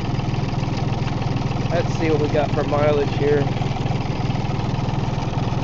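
A John Deere 870 tractor engine idles smoothly with a steady low, rhythmic diesel chug, close and constant, while someone speaks briefly over it.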